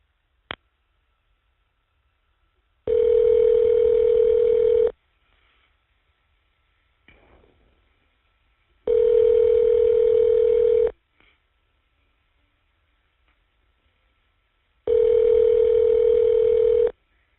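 Phone line tones on a prison jail call as a number is dialed: a sharp click, then three long steady electronic tones of about two seconds each, spaced evenly with silence and faint clicks between them, no talking.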